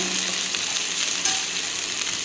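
Onions fry in a hot pan for an Indian dish, a steady, loud, dense sizzle with faint stirring scrapes, close and continuous with no one talking.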